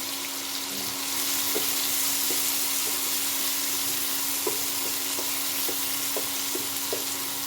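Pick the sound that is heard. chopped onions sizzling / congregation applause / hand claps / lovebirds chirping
chopped onions sizzling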